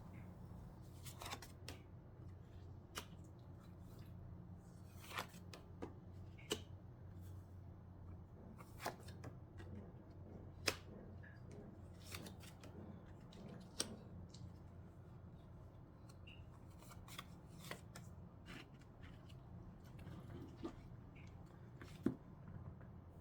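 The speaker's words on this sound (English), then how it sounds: "Now let's draw some more cards." Tarot cards being shuffled and drawn, giving soft papery rustling under a low steady room hum, punctuated by a dozen or so sharp faint snaps and flicks spread through the passage, with no talking.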